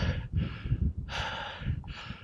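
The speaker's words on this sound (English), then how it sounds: "I'm breathing pretty hard" Heavy, rapid breathing of a hunter winded from hiking during a Wyoming elk hunt, with loud, close gasping inhales and exhales repeating steadily and no talking.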